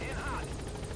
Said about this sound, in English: Oh, there's an enemy helicopter too.